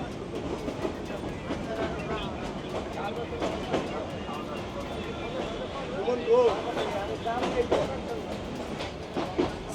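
Rumbling interior of a crowded passenger train in Bangladesh, with steady rattling and clacking of the carriage, a dense murmur of passengers' voices throughout.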